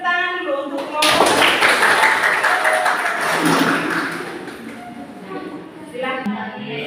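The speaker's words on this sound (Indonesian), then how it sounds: "Sekarang kita tepuk tangan dulu untuk kelompok." A classroom group claps for a presenting group, a brisk burst of hand clapping that swells, then fades, with a voice speaking before and after.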